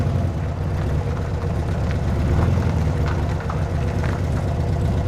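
A 1966 VW Beetle that sat for five years drives slowly, its air-cooled engine giving a loud, steady low rumble close by that swells slightly midway, with no voices.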